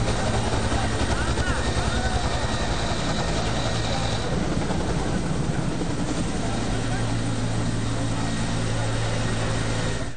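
An air force Bell 212 helicopter helping fight a fire, its rotor thudding in a loud, steady chop with a continuous engine roar that fills the whole stretch, with a voice heard over it.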